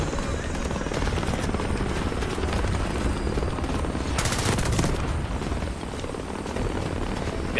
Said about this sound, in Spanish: También con este helicóptero tan grande.